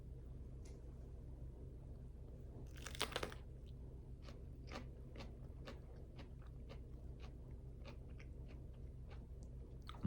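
A raw shishito pepper bitten and chewed, giving a quiet run of crisp crunches spaced through the bite over a low steady room hum.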